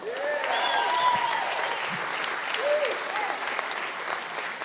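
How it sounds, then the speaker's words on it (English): Audience applause at a live comedy show, steady continuous clapping with a few whoops and cheers from the crowd, fairly full and close throughout. "How about giving a round of applause to another level?"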